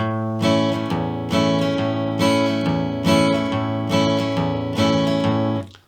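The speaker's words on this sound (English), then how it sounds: "So the first one is the boom chicka boom." Acoustic guitar playing a boom-chicka-boom strumming pattern: a bass note followed by two chord strums, repeating steady and close, with no talking.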